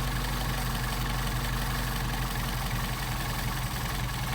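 A Mercedes 190SL on Solex carburetors idles in cold weather, a steady low, even engine rumble held throughout with no voices.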